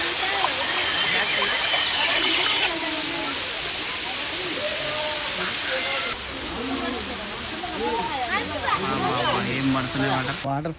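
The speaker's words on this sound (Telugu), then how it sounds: "వాటర్ ఫాల్స్ అయితే మొత్తం ఇట్లా పాలు పడ్డట్టే పడుతున్నాయి" A waterfall near the Srisailam temple pours down with a steady hissing rush of water, running loud and continuous beneath people talking, with a clear change in the ambience partway through.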